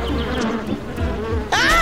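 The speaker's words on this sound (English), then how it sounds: "Bees! Beautiful!" Cartoon sound effect of a swarm of buzzing bees, a continuous close insect drone that swells and wavers, joined near the end by a sudden brighter sweeping burst.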